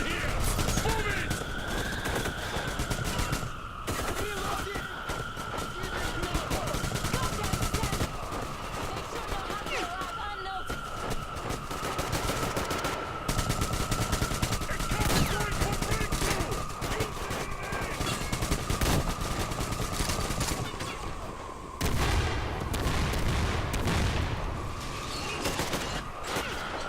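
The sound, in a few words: gunshots in the video game Metro Exodus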